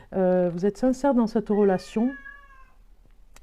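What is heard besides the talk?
cat meowing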